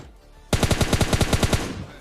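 Automatic gunfire spray in PUBG Mobile Lite, a loud close burst of about twelve rapid evenly spaced shots lasting just over a second, alone without talk.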